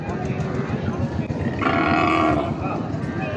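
Cattle lowing at the busy Raniganj livestock market in Dinajpur, with a loud, drawn-out moo rising over a constant, dense din of the crowded market.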